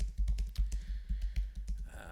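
Typing on a computer keyboard: a quick, irregular run of soft, close key clicks with no talking.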